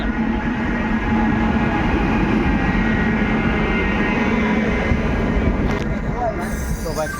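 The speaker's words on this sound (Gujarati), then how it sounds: "તો ભાઈ આપણી ટ્રેન આવી ગઈ છે ભાવનગર ઓખા" A Bhavnagar–Okha passenger train pulls into a station with a steady, loud rumble of rolling wagons throughout, while people talk nearby over the noise.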